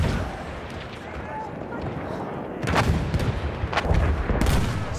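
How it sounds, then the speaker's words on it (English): Artillery booms and gunfire roll through a Battlefield 1 match, a dense rumbling barrage that swells louder midway with repeated heavy blasts, while game voices call out over it. "Spotted enemy artillery!"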